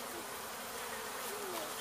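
A honey bee swarm during a removal in Weslaco, Texas makes a dense, steady buzzing drone that fills the whole stretch, faint yet continuous, with no talking.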